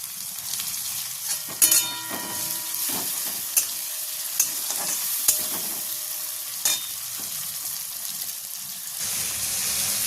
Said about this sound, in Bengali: টমেটোটা দেওয়ার পরেও 1-2 মিনিট নাড়াচাড়া করে দিয়ে তারপরে আমি আদা রসুন পেস্টটা দিয়ে দেব।